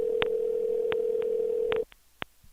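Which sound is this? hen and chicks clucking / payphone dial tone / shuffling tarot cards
payphone dial tone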